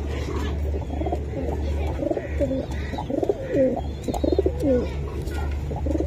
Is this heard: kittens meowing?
no